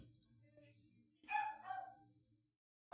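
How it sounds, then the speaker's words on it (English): Moose the dog barks indoors in a short cluster of yips and barks partway through, fairly faint and somewhat distant, with a low steady hum beneath and another bark starting at the end. "I know you can hear the barking. Dog's going crazy."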